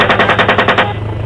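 Machine gun firing a fast, loud, close burst of about eight evenly spaced shots that stops abruptly into a fading echo.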